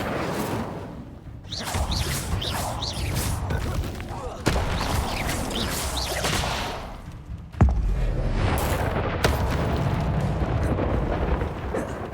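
A game's Incendio fire spell erupts in long roaring whooshes and bursts, with a sharp crack partway through and flames rushing on after it.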